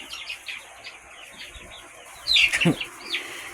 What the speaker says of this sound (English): Clyde, I seen you chasing that chicken.